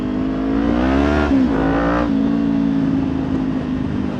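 Parallel twin engine of a sport motorcycle revving loudly and close, the pitch climbing, dropping briefly, then surging again before settling into a steady high drone, with no voices.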